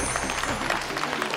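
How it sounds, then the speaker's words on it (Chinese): Studio audience applause at a Tianjin TV crosstalk comedy show, a dense, steady patter of many hands clapping at close range throughout, with no talking. "哎呀妈呀，还等啥呀，掌声啊"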